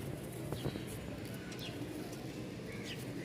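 Racer pigeons, a male and female pair, coo softly over steady background noise, with a few faint chirps mixed in.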